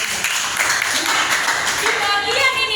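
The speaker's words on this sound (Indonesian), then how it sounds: "Yuk, kasih tepuk tangan." A classroom of students clapping together in a dense, steady burst of applause that lasts a few seconds at close range.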